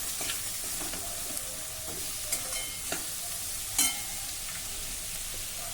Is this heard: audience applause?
no